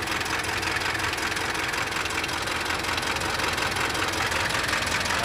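Mitsubishi 4M42 diesel engine with an injector circuit fault, idling steadily and loudly close by with a rough, knocking rumble and no pauses.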